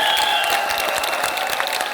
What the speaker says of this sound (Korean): 지금 박수 치시고